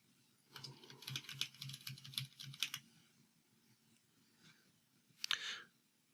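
Fingers typing a description on a computer keyboard, a quick run of soft clicks for about two seconds, a pause, then a brief final burst of keystrokes, close and quiet.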